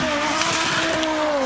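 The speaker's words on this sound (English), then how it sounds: "Peter van der Putten on the start line in his Audi Quattro S1." An Audi Quattro S1 Group B rally car idles loudly on the start line of a forest rally stage at Goodwood, its steady, droning engine note filling the whole short clip.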